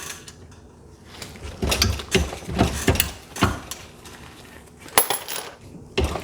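RCBS Rock Chucker reloading press small-base sizing Lake City brass cases with RCBS dies, a repeated series of metallic clunks, ratcheting lever strokes and clinking brass at close range, several strokes in a loose rhythm.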